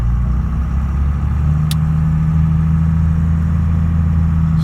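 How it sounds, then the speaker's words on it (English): An International fire truck with a 530 International diesel engine, loaded with 1,500 gallons of water, runs steadily with a loud, deep, continuous drone, heard from inside the cab without pause. "It has a 530 international diesel engine."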